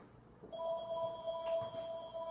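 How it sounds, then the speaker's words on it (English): A telephone rings in a home kitchen while chicken is being sliced. After a brief quiet start, a steady, fairly loud electronic ring with bright sustained tones begins and continues with no voices. "Oh, of course the phone rings."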